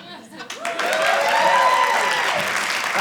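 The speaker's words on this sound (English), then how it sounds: "You need the applause, right?" Applause from the audience at a stand-up comedy show builds quickly after a voice and some laughter at the start, then swells into sustained, loud clapping that continues to the end.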